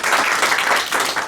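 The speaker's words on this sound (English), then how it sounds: "Give her a round of applause" A political campaign event audience applauds, a dense wash of clapping hands that is loud and sustained throughout the short moment.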